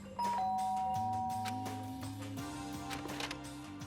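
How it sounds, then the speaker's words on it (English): A two-tone electronic doorbell chime from the video game Danganronpa: Trigger Happy Havoc rings clearly, with sustained tones over soft background music. "There's a doorbell next to the door. I guess I should use that."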